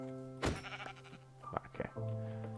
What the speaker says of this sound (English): That was another sheep.